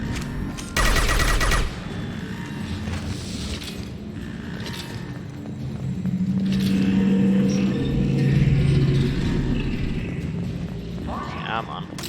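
Gunfire in the video game Mass Effect 2, with a loud burst of rapid shots early on followed by rumbling combat noise and mechanical sounds, mixed with spoken dialogue.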